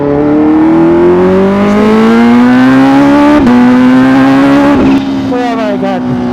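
A 2023 supercharged Kawasaki H2 Carbon motorcycle engine holds a loud, close, steady high-pitched whine, with the pitch climbing slowly and a couple of short dips as it revs. A voice talks over it.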